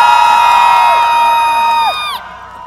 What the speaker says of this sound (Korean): 김희재를 내가 제일 사랑해 하는 분들 함성 한 번만 질러보세요.